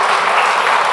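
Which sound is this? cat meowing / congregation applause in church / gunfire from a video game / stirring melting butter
congregation applause in church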